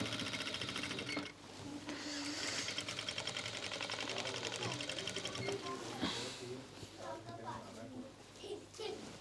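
A sewing machine runs steadily while stitching a pheran at a boutique, its rapid needle chatter continuous and close, with a voice and other talk faintly over it.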